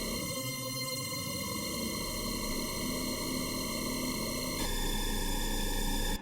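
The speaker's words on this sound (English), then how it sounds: "And you have sort of a tone that's much more metallic-like in nature." Metallic synthesized tone built in Harmor with no distortion, a dense sustained drone of stacked bright harmonics ringing steadily, with a slight shift in texture near the end, alone and fairly quiet.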